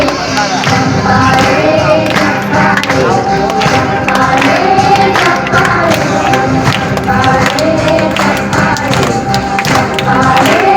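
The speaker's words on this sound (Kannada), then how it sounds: "ಎಲ್ಲರಿಂದ ಜೋರಾದ ಚಪ್ಪಾಳೆ ಬರಲಿ." Loud applause from an audience at a school alumni gathering, steady dense clapping from a large crowd with some cheering mixed in, close and sustained the whole time.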